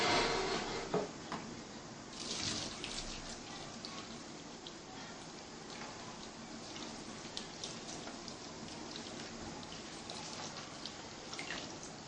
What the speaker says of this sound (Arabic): اروح اكب عليها ميه ساقعه.